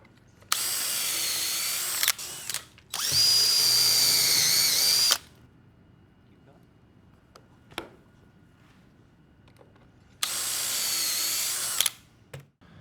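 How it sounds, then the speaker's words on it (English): A power drill with a depth-collared bit bores pocket screw holes in cellular PVC trim, whining in three separate bursts, loud and close, with quiet gaps and small clicks and knocks between them. "Use a special drill bit with a collar that you adjust to give you the depth you want."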